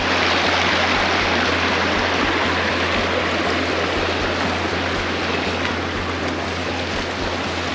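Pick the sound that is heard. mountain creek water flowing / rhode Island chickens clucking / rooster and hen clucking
mountain creek water flowing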